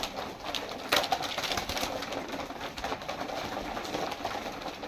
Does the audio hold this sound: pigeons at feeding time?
yes